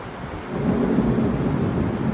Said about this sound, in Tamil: மழை வந்துருச்சு, மழை வந்துருச்சு.